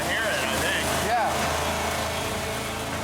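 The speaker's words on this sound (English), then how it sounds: "That penny is taking a pounding, but the engine's still running." An engine running with a penny lodged in its carburetor gives a steady, close mid-pitched drone throughout, with brief voices faintly over it.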